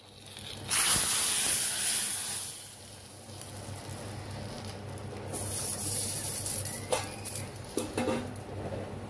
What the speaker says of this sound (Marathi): मिरची जरा भाजून घेतलं तेलात.